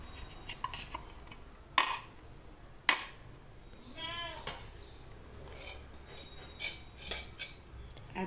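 Coconut rice is spooned onto plates, with scattered metallic clinks and scrapes of a serving utensil against the plates, some sharp and close, set over a quiet room.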